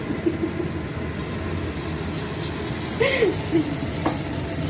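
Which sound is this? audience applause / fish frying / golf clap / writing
fish frying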